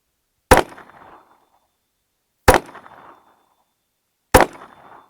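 A KelTec CP33 competition pistol fires three sharp, loud shots spaced about two seconds apart, each followed by a short ringing decay in open air, with no talking.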